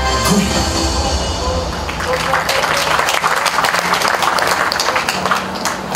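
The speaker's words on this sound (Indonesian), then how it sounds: "para hadirin di sini tepuk tangannya luar biasa" Loud, dense audience applause at a police headquarters launch event in Jakarta attended by the governor, swelling after the first couple of seconds into sustained clapping from a large crowd in a hall.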